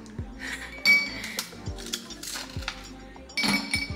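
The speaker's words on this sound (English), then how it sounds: "I have these like miniature ice cubes and they're long." Long miniature ice cubes clink into a glass of juice, with sharp clinks and a few louder knocks spread over several seconds, close and clear with no talking.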